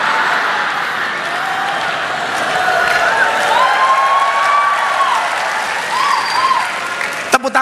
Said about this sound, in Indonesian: Tepuk tangan buat siapa itu?